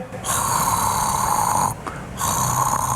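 A person imitates a man's snoring, producing two long, loud rasping snore sounds separated by a short pause, close to the listener and with no other voices.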